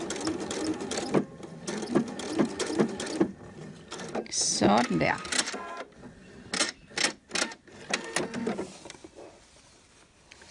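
A sewing machine stitching the collar onto a shirt made of Liberty fabric, running in short whirring bursts between pauses. A person speaks briefly in between.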